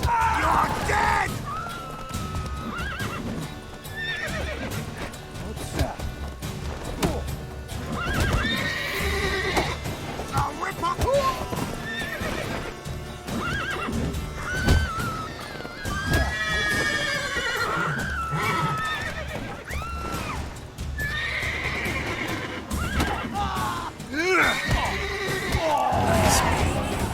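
Geralt's horse Roach in the video game Witcher 3, neighing and whinnying repeatedly over galloping clip-clop hooves, loud and continuous amid game sound effects and shouting voices.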